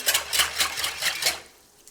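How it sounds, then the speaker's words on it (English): Activated, foamed yeast being mixed into flour for bread dough, a short burst of rhythmic scraping and stirring strokes in a bowl, close and clear with no talk. "Okay, we're going to mix this up."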